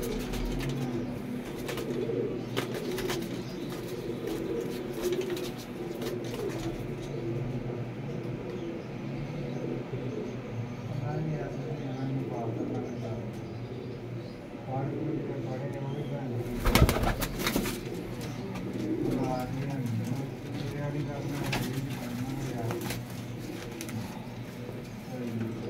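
Soft pigeon cooing repeats against a steady background hum, with people talking faintly in the room and a brief louder knock partway through.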